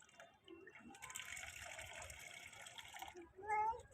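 Water runs from a tap to water plants, a gushing stream that starts about a second in and flows steadily for about two seconds before easing off, with a voice and other faint sounds around it.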